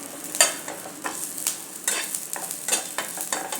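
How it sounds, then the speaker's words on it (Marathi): Onion, dry coconut and garlic fry in a pan for a prawn curry, with repeated scraping stirs breaking over a continuous soft sizzle. "आता हे थोडंसं व्यवस्थित परतून घेऊया।"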